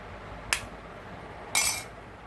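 Dishes clink twice, each a short, bright, separate tap, as fish gravy is served over rice. The clinks are close and clear over a quiet room hiss, with no talking.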